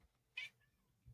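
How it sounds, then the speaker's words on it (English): A single cat meow, fairly faint and brief, in an otherwise quiet room, followed by a soft low thump. "Oh, my cat's bitching already."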